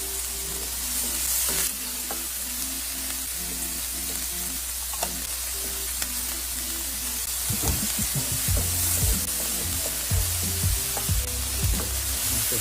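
Green bell pepper sautés over medium heat in a pan, giving a loud continuous sizzle; stirring clatter and bursts of spitting grow busier in the second half.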